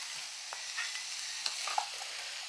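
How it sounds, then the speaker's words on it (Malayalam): Green tomato and dried shrimp frying together in a pan for a Kerala thoran, a soft continuous sizzle with a few faint stirring clicks, steady and close. "ഇനി നമ്മൾ ചേർക്കുന്നത് നമ്മുടെ തക്കാളിയാണ് പച്ച തക്കാളി നമുക്ക് ഒന്നിച്ച് തന്നെ നമ്മുടെ ഇതും കൂടെ ചേർക്കാവേ നമ്മുടെ ചെമ്മീനും കൂടെ അങ്ങ് ചേർക്കാം"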